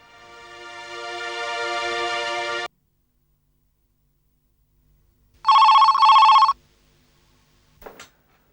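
A telephone bell rings in a long burst, falls silent, then rings again in a shorter burst, followed by a brief faint click; loud and close in a quiet room.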